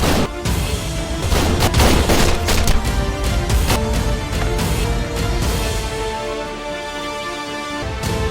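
Gunfire in a tense film shootout where two men fire on each other: a dense, loud barrage of overlapping gunshots and booms layered over a swelling music score, with no talk throughout.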